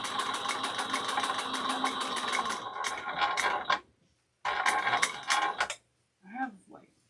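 A sewing machine back stitches a handbag seam in short mechanical bursts, running for several seconds, pausing, running again briefly, then going quiet, with a faint voice near the end.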